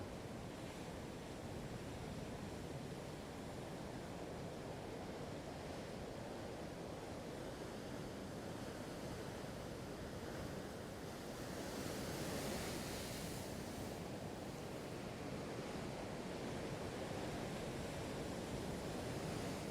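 Big ocean waves breaking off the Irish coast, a constant broad roar of surf with a swell around the middle, mixed with wind buffeting the microphone.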